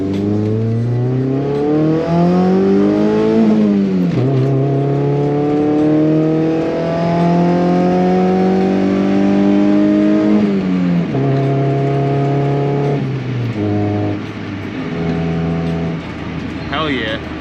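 A Honda Civic (EF) engine revs up and down repeatedly, its pitch climbing, holding and dropping close by, with people talking over it.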